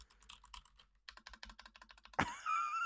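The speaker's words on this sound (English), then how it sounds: "keyboard is so loud." Rapid bursts of loud computer keyboard typing, close and crisp, two clusters of keystrokes separated by a brief pause, ending in a sharper clack followed by a ringing tone.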